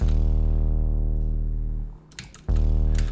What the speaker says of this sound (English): So we have a sub bass,